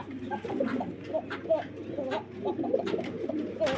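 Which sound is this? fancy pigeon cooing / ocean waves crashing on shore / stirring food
fancy pigeon cooing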